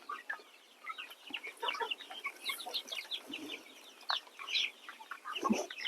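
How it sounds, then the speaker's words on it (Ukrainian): Clucking from a rooster and other chickens, a steady scatter of short calls through the whole stretch, fairly close, with no talking. "Такий собі півник."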